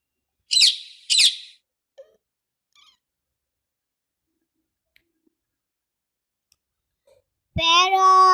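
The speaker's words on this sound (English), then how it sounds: "Peacock." A peacock gives two loud, abrupt shrieking calls, then a long quiet gap, then a longer, strongly tonal wailing cry, clear and close.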